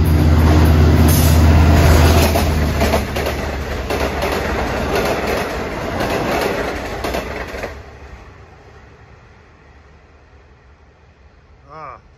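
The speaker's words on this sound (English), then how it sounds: "There are joints in the rail, you get a lot of banging." A Long Island Rail Road train passes at Elmont station, loud rumbling with rhythmic banging over rail joints that fades after about eight seconds, leaving quiet ambience and a faint squeal near the end.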